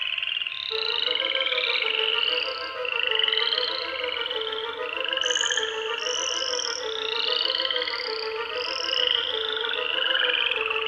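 Steady, continuous frog croaking fills the scene, a rhythmic warbling chorus that rises and falls in repeated pulses, moderately loud and heard alone with no talk.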